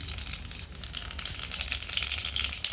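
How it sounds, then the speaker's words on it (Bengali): Cumin, radhuni and black cumin hit hot oil in a pan and sizzle steadily, a continuous close crackling hiss with small spitting pops throughout and no talking. "তেলটা দেখেন গরম হয়ে গেছে দিয়ে দিলাম"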